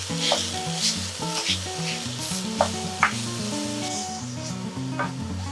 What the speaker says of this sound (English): So you just wanna break your meat with a wooden spoon.